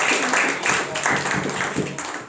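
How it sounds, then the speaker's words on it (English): An audience at a speakers forum claps for their president, a dense, even patter of applause that stays fairly loud and continuous from start to finish. "Can we have a huge round of applause for our president"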